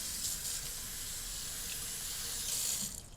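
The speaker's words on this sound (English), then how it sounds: "I'm gonna pour them into a colander. Just run them under hot water." Hot tap water runs steadily into a sink over frozen peas in a colander, a constant close hiss and splash with no talk.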